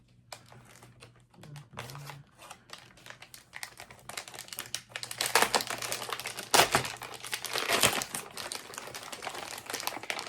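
A plastic accessory packet from a First Strike Ration is worked at and torn, giving close, dense crinkling and crackling that builds louder toward the end, without speech.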